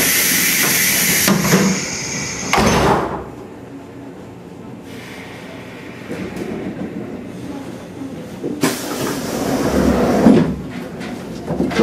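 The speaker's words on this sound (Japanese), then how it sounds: "ドアが閉まります。" Doors of a 185 series limited express train slide shut with a rush and thud amid Japanese station noise, followed by a second heavy door movement later on.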